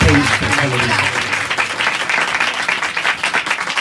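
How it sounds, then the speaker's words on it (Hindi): Congregation applauding steadily at a church sermon in a Hindi-Urdu service, a dense wash of many hands clapping with voices mixed in, loud and close throughout. "एक बार फिर ताली बजा दीजिए खुदावंद के कलाम के लिए।"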